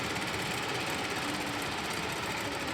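Sewing machine stitching a blouse back, a fast steady mechanical whir and rattle running continuously at moderate volume with no voices.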